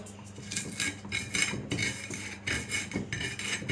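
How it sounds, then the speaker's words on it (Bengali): Roasted mango and salt ground on a stone grinding slab, repeated scraping and clinking strokes in a steady back-and-forth rhythm, close and moderately loud with no talking. "দিয়ে আমি বাটনায় এটাকে পিষে নেব"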